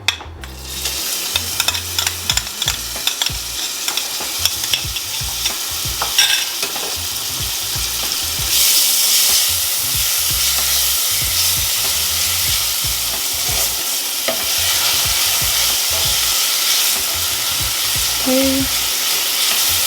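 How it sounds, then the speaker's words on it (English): Minced onion and garlic sauté in a pot still hot from cooking spinach for a spinach and artichoke dip. A loud, continuous sizzle runs throughout, with frequent scraping and clinking from stirring close by. "And the onions and garlic we are going to saute now."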